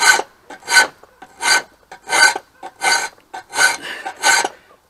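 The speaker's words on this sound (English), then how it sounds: "So when I go to sharpen it, I can stop the stones right here." Steel knife blade drawn over sharpening stones in loud, regular rasping strokes, roughly one every half second, each a gritty scrape with brief pauses between.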